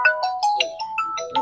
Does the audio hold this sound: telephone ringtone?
yes